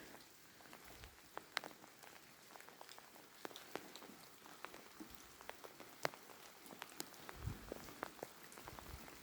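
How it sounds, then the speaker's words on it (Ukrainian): Light rain patters steadily at night, scattered drops tapping on a surface at an irregular, gentle pace with no voices. "Краще отакий дощик, ніж ливень."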